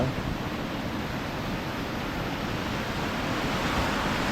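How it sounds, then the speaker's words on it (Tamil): Flood water on the Kaveri river rushes past in a continuous broadband roar that stays loud and steady throughout, like heavy surf, with no voices. "இவ்வளோ தண்ணி போகுது இதில் நம்ம எப்படி குளிக்க முடியும்னு தெரியல"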